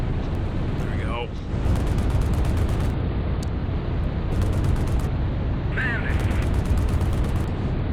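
In a Strike Fighters 2 dogfight between an F4U and a Yak-9, the aircraft's guns fire in loud rapid bursts, clustered in three dense stretches over a constant roaring engine drone, with brief whistling tones in between.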